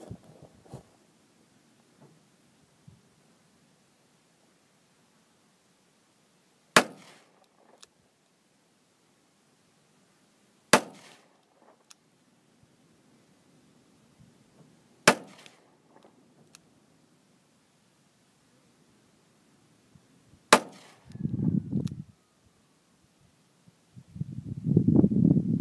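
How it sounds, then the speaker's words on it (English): Four sharp, widely spaced revolver shots of .38 Special 158-grain lead round-nose ammunition fired at a target 75 to 80 yards away, each crack followed by a short decay, with low rumbling noise toward the end. "Now we're gonna go 38 special, 158 grain, lead round nose"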